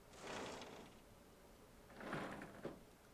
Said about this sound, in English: Opening a door.